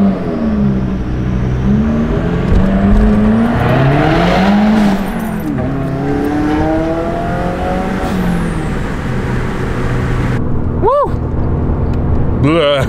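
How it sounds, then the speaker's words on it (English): Subaru WRX accelerating on the road, engine note rising and falling through several gear changes for about twelve seconds, up close and loud, with a person talking briefly over it near the end. "This car is still fun, still makes cool noises."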